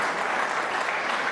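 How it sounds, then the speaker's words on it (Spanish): Steady, dense applause from an assembly crowd at a Venezuelan political broadcast event, continuous and fairly loud with no break throughout. "Aplauso, pues."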